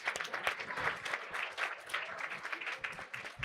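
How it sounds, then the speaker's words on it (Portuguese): An audience applauds in a warm burst of clapping that carries on steadily for a few seconds at moderate loudness, with no speech over it. "Uma salva de palmas para dona Rita Lee"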